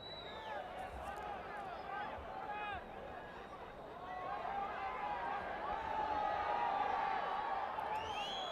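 A football stadium crowd at an AFC Champions League match between PFC Nasaf and Tractor FC, rumbling and jeering at a player's time-wasting, with scattered whistles and shouts swelling toward the end under a commentator's voice.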